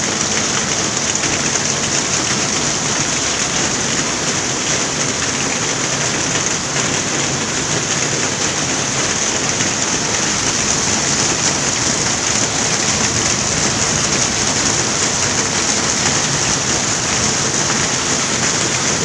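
Heavy tropical downpour pouring onto flooded city streets in Komsomolsk-on-Amur, a loud, unbroken roar of rain lasting throughout, with no voices.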